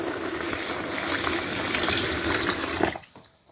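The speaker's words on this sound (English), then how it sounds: "I'm going to add water now." Water pours steadily onto clay to soften it into a paste, a continuous close splashing trickle that swells and then stops abruptly near the end, with no talk.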